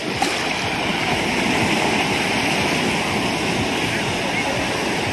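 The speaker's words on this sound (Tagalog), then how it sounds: "Medyo talaga malakas yung alon." Strong surf at Boracay washes and churns nearby in a constant broadband roar, with waves rushing loudly and no pause throughout.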